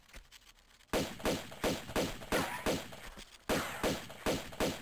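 Rapid gunfire in the Tomb Raider II Remastered video game aimed at spiders, a string of sharp, evenly spaced shots of roughly two per second that begin abruptly after a quiet start and continue loudly.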